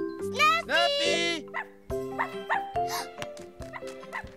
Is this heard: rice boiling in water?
no